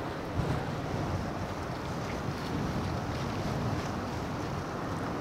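Strong wind buffets the microphone near the water at Port Fourchon, Louisiana, in a steady, loud broadband roar with gusty rumble and a wash of waves beneath, and no voices.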